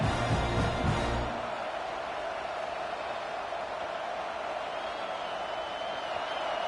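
A football stadium crowd at an Oklahoma vs Georgia game roars steadily behind the defense, a dense, sustained wash of far-off cheering that swells briefly at the start, then holds as an even rumble.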